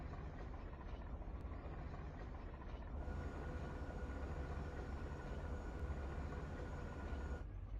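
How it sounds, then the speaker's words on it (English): A large aircraft approaches in the video game SandLand, a steady, broad droning roar that holds loud and unbroken throughout and thickens partway in, with no voices over it. "there's a weird plane headed our way."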